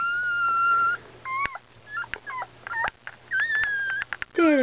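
Newborn puppies in a litter whimpering and squealing: a run of high, thin cries and yelps, close and intermittent, with short quiet gaps between bursts.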